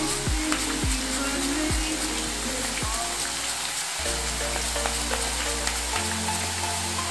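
Banana slices for Kerala-style banana chips drop into hot oil over a medium flame, setting off a loud, dense, continuous sizzle and crackle close by.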